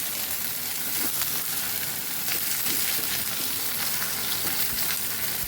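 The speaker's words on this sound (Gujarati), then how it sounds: "ઓછા તેલની અંદર ભીંડા અને બટેકા સરસ આપણા ફ્રાય થઈ જાય છે" Okra and potatoes fry in a little oil in a kadai, giving a steady, dense sizzle with faint crackles and occasional stirring, close and continuous with no talking.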